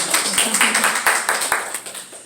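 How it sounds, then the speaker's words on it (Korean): A church congregation claps briefly in a series of scattered, uneven hand claps of moderate loudness, with some background murmur. "박수 한번"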